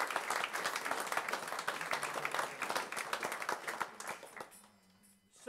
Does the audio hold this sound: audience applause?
yes